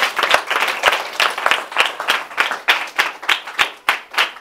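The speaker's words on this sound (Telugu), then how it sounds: "just give claps to Jesus Christ" A church congregation at a Sunday sermon claps in unison, loud and close, with sharp rhythmic beats about three per second carrying steadily throughout.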